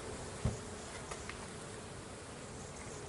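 Bees buzz around an opened hive in a faint, continuous hum, with one soft knock early on and a few light bumps afterward.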